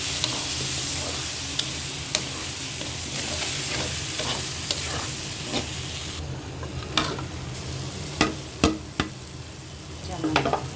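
Chow mein noodles tossed with soy sauce, oyster sauce and other sauces sizzle steadily in a hot pan, with scattered sharp clicks and scrapes of stirring growing busier toward the end.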